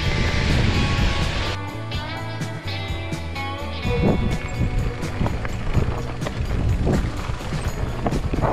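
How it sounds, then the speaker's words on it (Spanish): A waterfall in the Val d'Aran mountains, near Bagergue and Lago Montoliu, roars steadily as a continuous broadband rush beneath the loud rattle, clatter and thumps of an enduro mountain bike riding the trail. "Qué cascada hay aquí."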